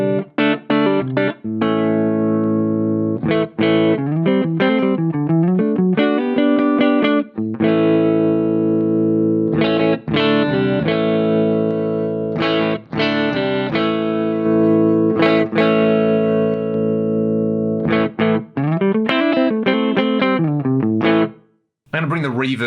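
Distorted electric guitar plays chords and riffs through a Rocktron Chameleon 2000 multi-effects unit's speaker simulator, loud and fairly dry, with brief pauses between phrases.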